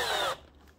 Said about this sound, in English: with the help of a very good drill, just a simple drill like this, we simply grab the side